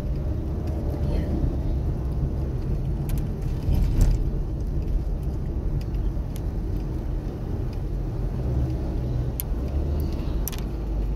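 A car drives along a road on a Sunday trip to church, its steady engine hum and tire rumble continuous throughout, with brief voices over the drone.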